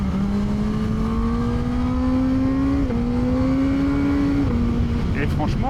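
A QJ Motor SRK 921 motorcycle accelerates out of a bend, its engine note rising steadily through two gear changes, loud and close, with wind rush and a rider speaking over it.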